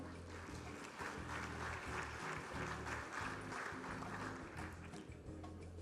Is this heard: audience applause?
yes